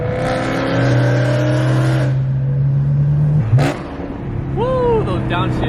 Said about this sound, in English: those downshifts. That sounds so good.